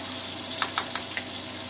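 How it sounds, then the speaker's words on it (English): Baked beans bubble gently in a pot, with a steady low hiss broken by a handful of soft, irregular pops close by and no voices. "baked beans are bubbling a little"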